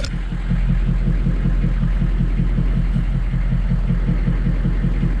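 A rescue truck engine idling after repair, a steady low throbbing rumble with an even, regular pulse, close and loud with no stutter throughout.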